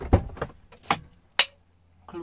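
Car keys jangle in a few short, bright metallic bursts, close and fairly quiet, with brief pauses between the shakes.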